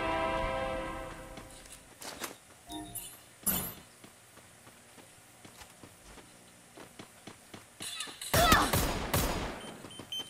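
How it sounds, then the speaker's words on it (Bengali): A video game weapon fires rapidly in short sharp bursts, with a louder burst near the end of the clip, over fading game ambience and a few brief mechanical clicks. "অসাধারণ রেট অফ ফায়ার হয়ে গেছে গাইস"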